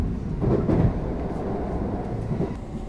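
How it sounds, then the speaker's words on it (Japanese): A Tokaido Shinkansen Nozomi train runs through central Tokyo, heard from inside as a steady low rumble of wheels and motors with faint rhythmic thumps. The sound is close, continuous and moderately loud. "列車は東京の都会の中を進んでいきます。"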